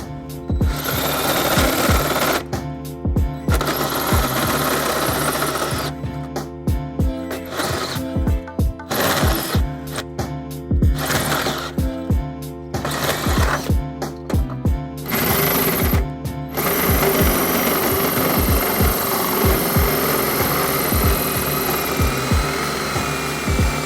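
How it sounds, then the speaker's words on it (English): Hole saw on a drill cutting through a pilot hole in the steel frame of a 2017 BMW X1 for a trailer hitch, a loud, rough buzzing whir in repeated bursts with short stops, close and without talk. "Now that I grab my hole saw, I'm going to go ahead and drill into my pilot hole."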